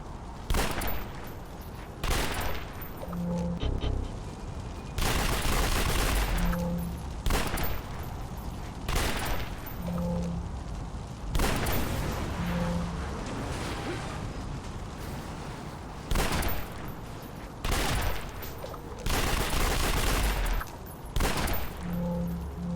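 Repeated bursts of gunfire and blasts from the superhero video game City of Heroes, with a Winter Lord enemy in the fight, come in loud clustered volleys every few seconds over a steady game soundscape.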